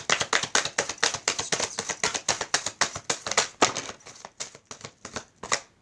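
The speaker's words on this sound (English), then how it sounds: "I wanted to reshuffle them back in the pack" Tarot cards shuffled by hand in a steady run of crisp, rapid riffling slaps, close and fairly loud, slowing into a few separate flicks near the end, with no talking.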